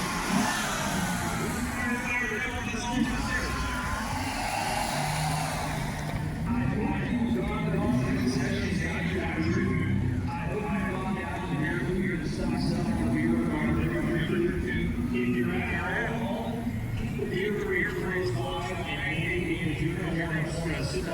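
A Nissan Altima race car engine revs and accelerates during a 600-lap enduro race, a loud, continuous mid-pitched drone that rises and falls through gear changes, with voices talking over it throughout.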